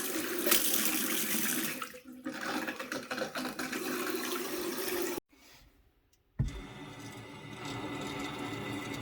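Water runs steadily into a home heating system being refilled after a gas boiler swap, a continuous hiss-like rush that cuts out briefly for about a second, then resumes at a lower level.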